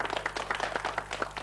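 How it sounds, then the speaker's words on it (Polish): A short burst of studio applause greets a contestant on a game show, with quick, scattered claps over a low electrical hum. "Brawa dla Krzysia!"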